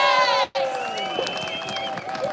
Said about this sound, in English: Big cheer for Dr. Vernon Coleman.